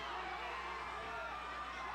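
Steady crowd roar from an MMA fight audience, a dense continuous wash of many voices at a constant level with no distinct single shouts.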